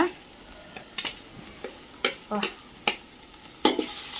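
Ginger-garlic paste and ground coriander-mint paste frying in a pot over a wood-fired stove for village-style mutton biryani, with a low sizzle punctuated by several sharp, spaced scrapes and clanks of stirring.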